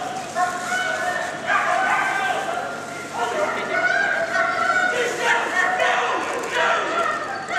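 A West Midlands Police dog barks repeatedly in a Crufts arena during an attack exercise on a helper playing a fleeing criminal, loud close yelps and barks recurring throughout over crowd murmur and a commentator's voice.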